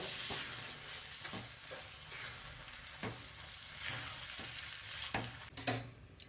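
Salt being stirred into roasted eggplant bharta, Maharashtrian style, with soft scraping strokes of a spoon against the pan at a steady rhythm, a faint sizzle beneath and a louder clatter near the end.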